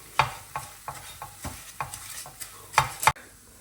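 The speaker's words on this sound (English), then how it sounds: "So we are frying the kunafa now." Kunafa frying in a pan, with a spatula stirring and scraping in a series of irregular clacks and scrapes over a soft, continuous sizzle, close by.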